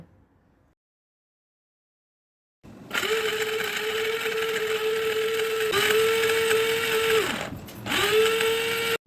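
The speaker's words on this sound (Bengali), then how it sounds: "এবার ব্লেন্ডারে অল্প অল্প করে দিয়ে ব্লেন্ড করে নেব।" Blender grinding torn pieces of fried gram-flour fritters, a loud steady motor whine that starts abruptly after silence, dips briefly as the load shifts, then runs on strongly; no talk.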